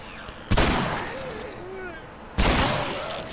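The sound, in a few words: gunshots from a shotgun in video game The Last of Us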